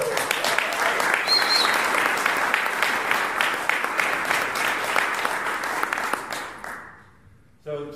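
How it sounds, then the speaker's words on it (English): A conference audience gives loud, sustained applause for keynote speaker Jeff McBride at a magic convention. The clapping dies away near the end, and a voice follows briefly. "please give a round of applause"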